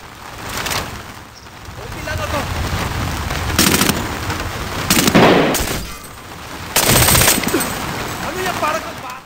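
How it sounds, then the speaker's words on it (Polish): Bursts of gunfire and several loud explosion-like blasts from grenades in the shooter game Medal of Honor Warfighter, dense and continuous over noisy battle ambience with someone talking over it. "granat tam tutaj rzuciłem, ale też doleciał do nas jakiś granat"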